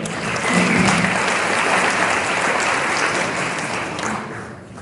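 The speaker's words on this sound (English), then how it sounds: "How about a round of applause for that?" Audience at a Q&A event in Tulsa breaks into a loud, dense round of applause that holds steady for several seconds, then tapers off near the end.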